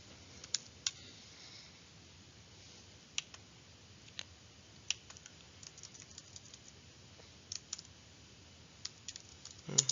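Scattered light keyboard clicks tap out irregularly at close range against a quiet background hiss, with short bursts of keystrokes and pauses between them.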